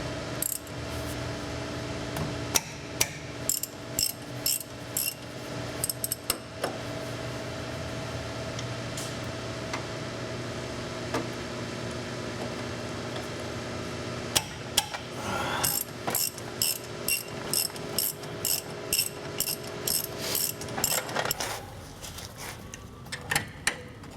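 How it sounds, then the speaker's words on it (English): A hand ratchet works loose a brake caliper bolt on a Dodge Dakota, giving bursts of rapid, crisp clicking strokes in several separate runs against a quiet garage background with a low hum, close and clear. "next we're going to take the brake caliper off"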